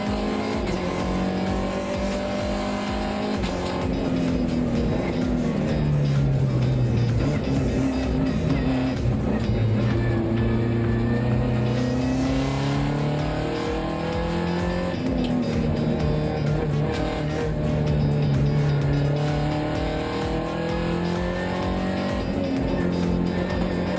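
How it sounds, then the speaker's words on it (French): Peugeot RCZ Cup race car, number 1, on a flying lap at the Val de Vienne circuit, heard onboard as a loud engine that climbs through the revs, drops at each gearchange and climbs again, with occasional tire squeal. "on s'embarque à bord de la Peugeot RCZ Cup Same Speed numéro 1 de Benoît Semoulin pour un tour du propriétaire"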